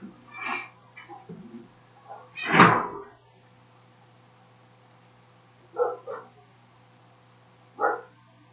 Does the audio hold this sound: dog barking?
yes